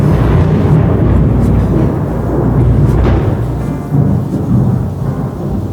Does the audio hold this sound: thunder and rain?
yes